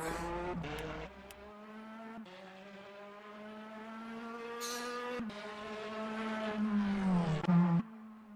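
A simulated race car laps Donington Park in the rFactor racing game, its engine whine holding a steady pitch, dipping through gear changes, then rising loudly near the end before cutting off, with no talking.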